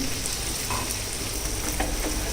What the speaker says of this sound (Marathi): हे बघा आता बटर वितळलेलं आहे. यात आपण लसूण घालायचे. ही सुद्धा अशी ठेचूनच घालायची.